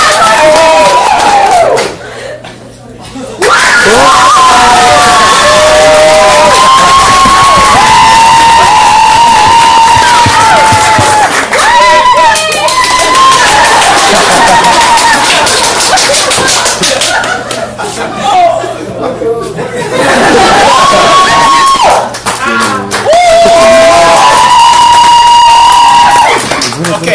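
An audience cheers, whoops and claps loudly and continuously, with laughter and voices talking over the crowd noise throughout.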